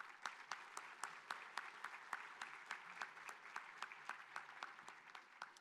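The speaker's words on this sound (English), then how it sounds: "give all the members of these two groups a round of applause" Faint, distant applause at a volunteer awards ceremony for members of two volunteer groups, with a sparse crowd clapping in a fairly regular patter and individual claps standing out throughout.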